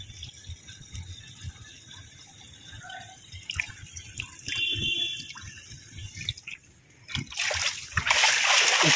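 Water draining through a just-unclogged drain: splashing and dripping gurgles come in irregular bursts, close by, growing into a louder rushing wash near the end.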